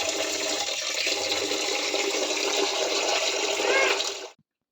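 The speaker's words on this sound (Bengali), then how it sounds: "এই যে আমি চালটা ধুয়ে নিচ্ছি ভাত বসিয়ে দেবো" Rice is washed in water in a kitchen, heard as a loud, continuous rush of running, splashing water that stops abruptly at the end.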